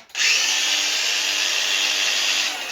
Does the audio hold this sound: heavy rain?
no